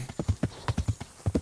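Clip-clop of a horse's hooves in the medieval role-playing game Kingdom Come: Deliverance, a quick, regular run of close, distinct hoofbeats on hard ground with no voices over them.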